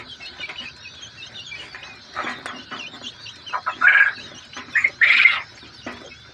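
Brahma chicken chicks chirp in a cluster of high, thin peeps, with a few louder bursts of calls and rustling standing out against a faint continuous background.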